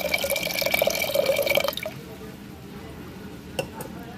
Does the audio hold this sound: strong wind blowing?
no